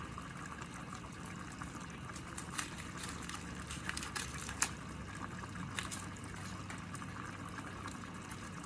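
Boiling water is poured into a big pot, a soft continuous trickle and splash with a few small clinks, quiet and close, without talk.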